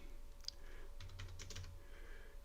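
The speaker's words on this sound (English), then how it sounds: "typing it in, doing all this live as we go" Live typing on a computer keyboard, a quick run of soft clicking keystrokes close by over a low background hum, with no talking.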